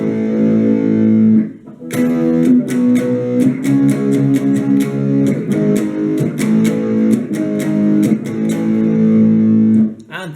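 An electric guitar plays the chorus of a song with a driven, distorted tone: a brief pause, then rhythmic strummed power chords with sharp, evenly spaced up and down strokes, loud and close.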